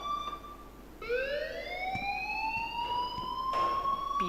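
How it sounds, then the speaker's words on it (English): A building alarm rings in the game Life is Strange, a loud steady electronic tone that jumps to a higher, rising pitch and keeps sounding over a low background hum, with no voices. "please turn off that alarm since that's your job"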